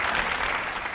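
Studio audience applause at a comedy talk show, a dense, steady burst of clapping from many hands that holds loud and even throughout, with no talking over it.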